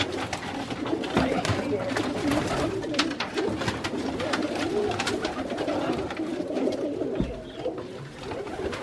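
Roller pigeons cooing close by amid rustling and flapping, with people talking faintly in the background.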